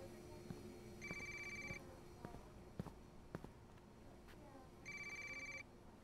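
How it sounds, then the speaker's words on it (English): Phone ringing in the Watch Dogs video game, two distinct electronic ringtone bursts a few seconds apart, moderately loud, with scattered footsteps and thumps in the game between rings. "Is that my phone?"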